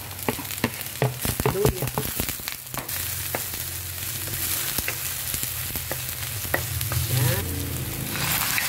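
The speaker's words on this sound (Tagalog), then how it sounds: "Ibisa na natin ang bawang. Ilagay ang sibuyas." Garlic and onion sautéing in a hot pan, a steady close sizzle broken by clattering stirs and scrapes at first, then settling into continuous frying hiss, with brief speech.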